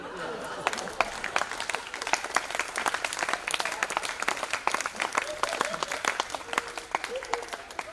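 Audience applause at a comedy show in a theatre, lively crowd clapping with sharp individual claps and some cheering throughout, fairly close and full.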